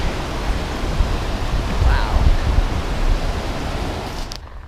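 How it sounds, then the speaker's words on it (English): A mountain waterfall pours off a rocky edge along a high-country trail, a steady broadband rush of falling water that swells slightly midway before cutting off. "There's another waterfall going off that edge."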